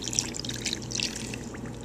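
Apple cider vinegar poured onto sugar and celery seed for a cucumber salad, a soft steady trickle close by, quiet and continuous over a faint background hum.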